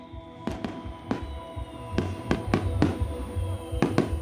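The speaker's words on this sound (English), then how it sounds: "Fireworks exploded above, cheers rose up from the crowd" Fireworks burst at a midnight Zapatista celebration, a scattered series of sharp bangs and pops going off one after another over a low crowd murmur.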